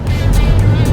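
Subaru Forester e-Boxer Hybrid running in sports mode, a steady low engine drone with a loud, even hum and no speech.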